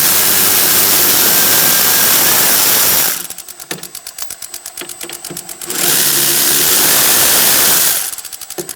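Two 14mm caliper bolts come out of a 2002-2006 Honda CR-V's rear brake with a long socket: a loud mechanical whirring burst, a rattling, clicking pause, then a second long burst and a brief third one.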